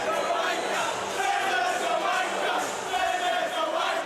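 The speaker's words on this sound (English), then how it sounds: "The crowd getting absolutely into this game right now." A crowd at an indoor hockey finals game roars and cheers continuously, a broad sustained wash of voices filling the arena throughout.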